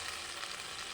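Whole cumin seeds tempering in hot oil for a potato and pumpkin curry give a steady, dense sizzle, close and even across the whole second, with no talk.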